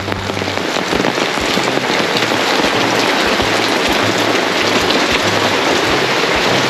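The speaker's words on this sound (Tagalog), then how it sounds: "Tag-ulan dito ngayon sa Bicol, pati sa ibang lugar ganun din, maulan din." Heavy rainy-season downpour in Bicol, a loud, dense, unbroken roar of rain pounding on a surface close by for the whole stretch, with no voices.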